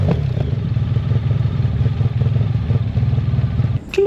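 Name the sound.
V4 motorcycle engine with aftermarket exhaust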